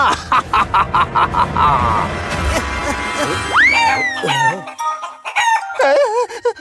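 A rooster crows loudly several times against busy background noise and other sounds.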